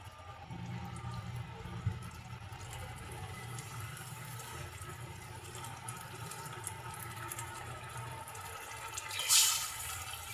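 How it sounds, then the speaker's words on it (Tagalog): Water is poured into sizzling sautéed sponge gourd (patola) in a pan, a steady low rush and bubbling sizzle, close and moderate, with a brief clatter near the end and no talk. "Tubig."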